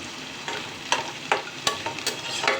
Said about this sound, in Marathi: कांदा पूर्ण कलर चेंज झालेला आहे तो तळला गेला आहे